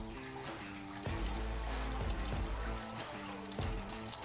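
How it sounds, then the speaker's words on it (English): Water washes down through about 30 pounds of grain in a Brewzilla all-in-one brewing system, making a steady splashing, trickling flow that swells and eases over several seconds with no talk. "Let that water kind of wash down."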